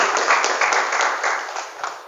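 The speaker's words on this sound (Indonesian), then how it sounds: "Tepuk tangan untuk kita semuanya hari ini, Bapak." Audience at a motivational seminar on a polytechnic campus in Jakarta applauding, a dense burst of many hands clapping close and fairly loud, tapering slightly over two seconds.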